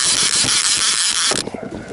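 A fishing reel is cranked while fishing for catfish and striped bass, giving a loud, close, rapid ratcheting whir that runs for over a second and then cuts off abruptly.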